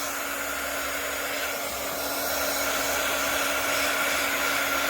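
Heat tool blowing hot air to warm polymer clay, a loud, steady rushing roar with a constant motor whine that holds unchanged the whole time, with no voices.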